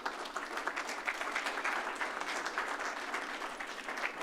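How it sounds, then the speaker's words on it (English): Brief applause from a crowd at a municipal flag-raising event greeting the mayor, a moderately faint, even patter of many hands clapping. "please join me in giving a round of applause to Mayor Brian K. Barnett."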